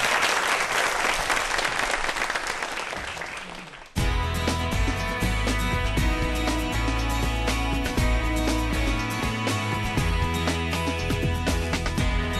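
A lecture audience applauds to welcome a rocket scientist, a dense burst of clapping that dies away after about four seconds, then music takes over.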